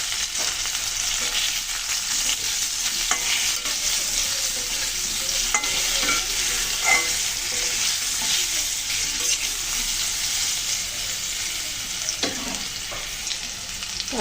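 Teasel gourd (kakrol) pieces fry in oil with potatoes and a little turmeric, a continuous close sizzle broken by frequent scraping stirs of a spatula, with no talking.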